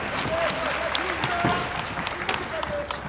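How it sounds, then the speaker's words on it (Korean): An arena crowd at an AFC MMA event applauds as round one begins, a continuous wash of clapping and crowd noise with a commentator talking over it. "1라운드 그럼 큰 박수로 시작하겠습니다."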